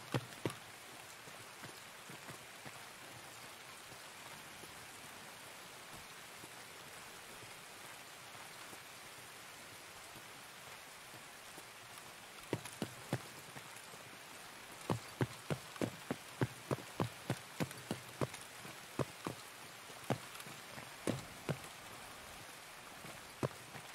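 Rain falls in the Escape from Tarkov game as a faint, steady hiss, with a run of sharp, closely spaced ticks and taps partway through.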